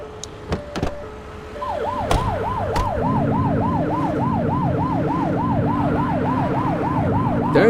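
Police car siren in the video game The Precinct, a loud, close wailing electronic siren that sweeps up and down in a fast repeating cycle over engine rumble, with a few sharp clicks at the start.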